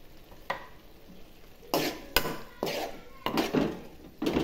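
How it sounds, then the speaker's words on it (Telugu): Tomato curry with onion and spices being stirred in a pan, several scraping, clattering strokes of a spoon against metal over a faint background, close up. "ఇప్పుడు ఒకసారి కలుపుకుందాం."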